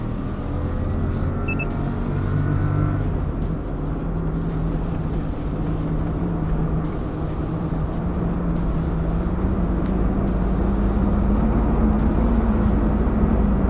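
A Toyota Town Ace van accelerating hard in all-wheel drive, its engine a loud, continuous interior drone that climbs in pitch as it revs up, with steady road rumble underneath.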